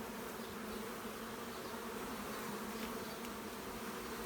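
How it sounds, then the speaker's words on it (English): Honeybees buzz inside a hive in a dense, steady drone that holds at an even level throughout, close by and unbroken, with no voices. "But nevertheless, a happy hive"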